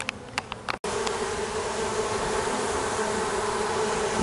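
Bees swarm around a hive, a dense, steady buzzing close by that fills the whole stretch, with a few faint clicks at the start.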